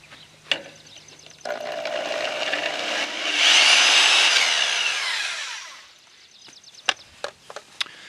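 A power saw cuts H channel for a high tunnel: a sharp clack, then a few seconds of rising, screeching, high-pitched cutting, followed by sharp metallic clicks and taps as the piece is handled.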